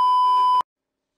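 A phone beeps with one steady electronic tone inside the horror game House of Ashes. It holds for about half a second, then cuts off into silence. No one speaks over it.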